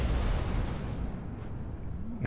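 Artillery shell blast in World of Tanks, a loud low rumbling boom at the start that decays into a long dull roar, with the high end dropping away midway.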